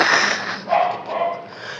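A dog barks outside a window in short, sharp bursts, moderately close, with a few separate barks in under two seconds.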